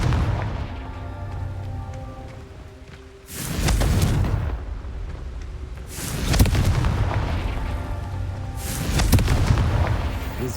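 Three heavy blasts from the Confringo fire spell in Hogwarts Legacy land at steady intervals, each a loud booming burst that rumbles and fades over a low ambient game score.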